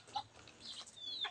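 White leghorn hens on a farm give several short, fairly faint clucks and a rising squawk, spaced irregularly over a quiet background.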